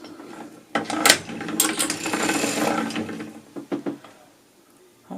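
A hand-cranked sock knitting machine clatters with ratcheting, geared mechanical clicks, a dense run of cranking in the middle followed by a few separate clicks and knocks close by, with no talk.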